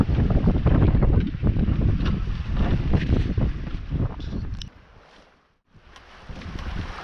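Gusty wind buffeting the microphone aboard a small sailboat on the water, heavy low rumbling blasts that ease off to near silence for a moment before picking up again.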